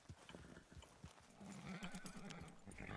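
Horse hooves clip-clop along with a short snorting whinny in Red Dead Redemption 2, set against game background sounds and ambient noise.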